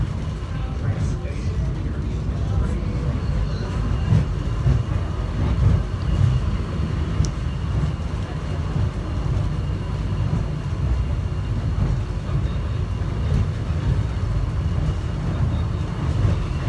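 An airport subway train running between terminals, a steady low rumble and rattle of the moving car heard from inside, with some faint speech and occasional squeaks over the continuous drone.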